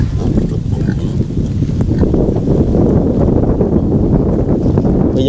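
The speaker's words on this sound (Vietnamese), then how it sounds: "Ở đây thì có 4 bé heo," Four piglets grunt and snuffle close by at a poor rural hut, a steady loud low rumble of grunts mixed with wind buffeting the microphone.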